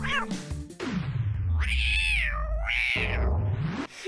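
A cat stuck on a tree branch meows loudly and close, one long drawn-out wavering cry after short rustling and thuds, with no talking.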